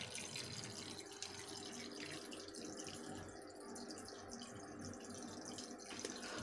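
Water streams steadily from a homemade low-cost aquarium top filter, a continuous, fairly quiet trickling and splashing flow with no voices.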